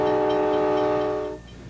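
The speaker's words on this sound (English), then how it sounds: "The train still stops here," At the Wolf Point station in the late 1980s, a train sounds its horn loudly and steadily for about a second and a half, then cuts off to a low, quiet rumble.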